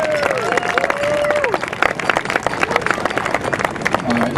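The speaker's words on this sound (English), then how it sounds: "Give her a round of applause." Wedding reception guests clap and cheer after a toast, lively close applause with individual sharp claps and crowd chatter mixed in, plus a voice talking over the start.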